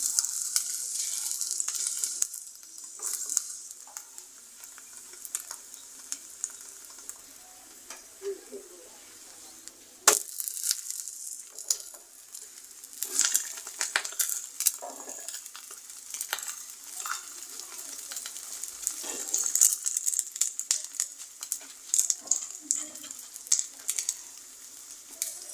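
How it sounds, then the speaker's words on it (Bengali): Egg paratha fries in a pan with a soft, uneven sizzle and hiss, swelling and fading, with a sharp clatter around the middle and scattered light scraping and stirring sounds. "এভাবে আমি প্রতিটি পরোটা ভেজে নেব সুন্দর করে।"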